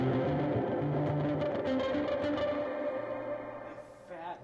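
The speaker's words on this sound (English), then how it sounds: "Fat reverb kind of makes it a little obnoxious." Electric guitar played through a shimmer reverb effect, dense sustained chords with pitched-up, washy overtones and long echoing tails that gradually decay and thin out toward the end.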